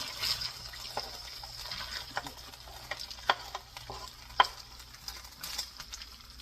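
Onion cooks in a tagine in the Atlas Mountains, giving a quiet, soft sizzle with scattered light clinks and stirring sounds, fairly faint and close, with no talking.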